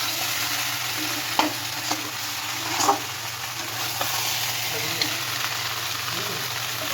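Chickpea masala, with chickpeas boiled in salt and turmeric, sizzles quietly in a pan while a spoon stirs it, with a few sharp scrapes and taps over a constant low frying hiss.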